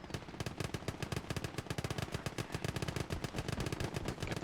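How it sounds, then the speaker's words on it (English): .30 cal machine guns fire continuously in the Gates of Hell war game, dense rapid bursts overlapping into a constant loud clatter with no pauses. "30 cals pumping away"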